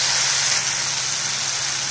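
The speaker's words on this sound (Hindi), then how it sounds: "अब हम इसमें ये नमक मिर्च और हल्दी डाल देते हैं। इसे भी 1/2 मिनट के लिए हम भून लेंगे।" Masala spices with salt, red chili and turmeric frying in hot oil for a jackfruit curry, a loud, steady close-up sizzle and hiss that runs throughout without a break.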